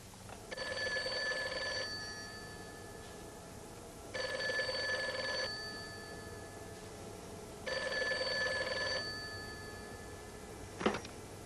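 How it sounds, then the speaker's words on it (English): A telephone bell rings in three loud, evenly spaced bursts, each about a second and a half long, followed by a single sharp clunk as the receiver is picked up. Nobody speaks. "answer the telephone"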